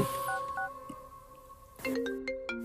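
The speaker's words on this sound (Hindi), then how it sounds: "बॉस आपका फोन रिंग कर रहा है।" A phone rings in a Hindi-dubbed South Indian action film, sounding as a series of bright electronic tones and beeps. The ringing is close and fairly loud, with no one talking.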